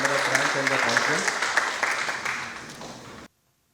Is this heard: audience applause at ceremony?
yes